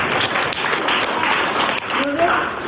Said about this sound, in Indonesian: Oke, tepuk tangan dulu untuk semuanya, keren banget